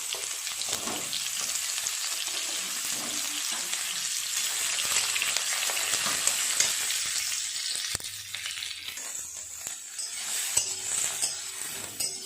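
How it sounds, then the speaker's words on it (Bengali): Vegetables frying with panch phoron spices in a pan, a loud continuous sizzle close by, broken by stirring and the clink of a metal utensil against the pan. "পাঁচ ফোড়ন ভাজা হয়ে গেছে, এবার এক এক করে সব সবজিগুলো দিয়ে ভাজা করে নেব।"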